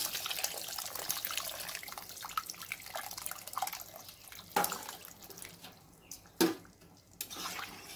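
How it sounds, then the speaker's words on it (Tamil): Tamarind water pours and splashes quietly into a pot of boiling masala for fish gravy, with a few louder sloshes and drips near the end. No one speaks. "இப்போ நம்ம புளி தண்ணியை ஊற்றிக்கலாம்."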